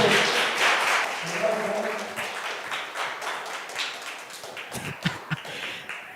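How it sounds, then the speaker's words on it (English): An audience applauds at a student speaking event, the clapping loud at first and then thinning out into scattered claps and a few taps over several seconds. "round of applause"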